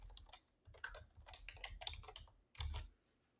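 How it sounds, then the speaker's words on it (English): Close, quiet typing on a computer keyboard produces a quick irregular run of light key clicks with a few short pauses and a heavier keystroke near the end, with no speech. "I'm going to type in MP3 Converter."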